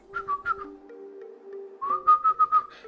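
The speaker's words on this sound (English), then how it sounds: "Can't whistle very well." A person whistles a short tune in two bursts of quick, wavering notes with a brief pause between them, fairly faint and alone.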